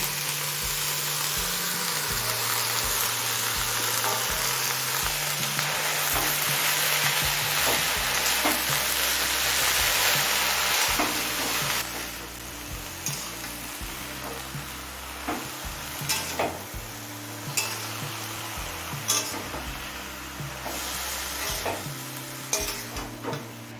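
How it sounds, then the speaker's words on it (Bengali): Pumpkin greens and vegetables with eggplant for a Bengali chorchori with prawns, frying and sizzling in a pan while being stirred, with steady scraping strokes over a constant hiss, louder in the first half and then settling. "কুমড়ো শাকটা দিয়ে সবজির সাথে নেড়ে চেড়ে মিশিয়ে নিয়েছি"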